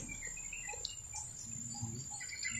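Faint bird chirps sound at scattered moments over a steady high insect drone, quiet outdoor ambience with no talking.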